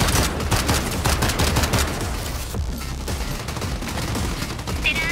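Rapid, dense gunfire from the video game Strinova, with sharp repeated shots rattling continuously and loudly throughout, plus a faint voice mixed in underneath.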